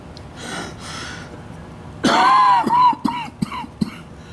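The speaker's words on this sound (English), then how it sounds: "And when I get the coughing" A man in a hot garage, troubled by a bad lung, breaks into a loud burst of harsh coughs and throat clearing after a quieter stretch. Several sharp, close coughs follow one after another.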